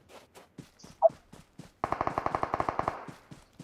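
Rapid automatic gunfire from the mobile battle royale game BGMI, a fast string of about a dozen evenly spaced shots after a few scattered single pops and light footsteps.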